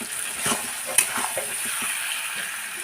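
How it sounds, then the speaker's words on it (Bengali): Prawns fry in hot oil in a village kitchen pan, hissing in a constant high sizzle while a utensil scrapes and stirs through them in irregular strokes, with one sharper clink, close up and with no speech. "চিংড়ি মাছগুলো ভালো করে ভেজে নিচ্ছি"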